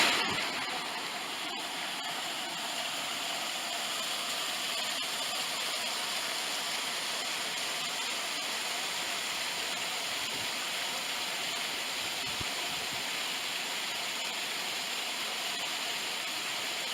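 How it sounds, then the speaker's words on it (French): A waterfall on a hiking trail in Alsace roars as a steady, even wash of broadband noise, heard from a moderate distance and unbroken for the whole stretch, with no voices. "On passe en bas de la cascade avec un bon petit café."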